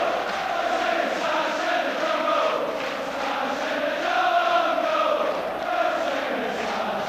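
A large football stadium crowd of Rangers supporters rumbles steadily as the terraces empty after the match, a dense distant roar of many voices with faint chanting rising and falling.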